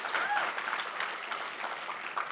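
Audience clapping steadily through a mayor's city budget and State of the City address, a dense, even wash of applause from a large room.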